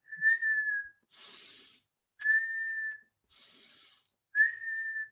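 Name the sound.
person inhaling and whistling as a breathing exercise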